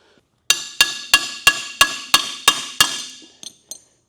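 A small hammer taps metal about eight times in an even rhythm, each strike ringing bright and close, followed by two lighter taps.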